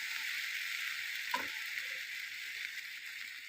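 Chilli powder masala sizzles steadily as it is stirred in a hot frying pan, with a brief scrape of the spoon partway through.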